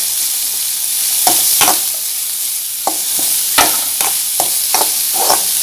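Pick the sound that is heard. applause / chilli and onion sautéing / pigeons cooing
chilli and onion sautéing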